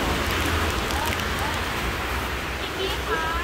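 Steady rain pours down by a dam reservoir, a dense, loud hiss of drops on surfaces throughout, with a voice faintly present beneath it.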